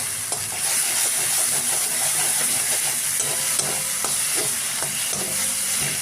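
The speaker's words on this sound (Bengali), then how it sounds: "একটুখানি ভাজা ভাজা করে এই আদা আছে তো, আদার গন্ধটা যেন একটু চলে যায়" Ginger sizzles in hot oil in a pan while cooking doi pona, a steady loud frying hiss with occasional light stirring scrapes and no voices.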